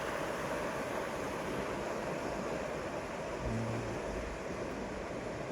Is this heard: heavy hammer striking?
no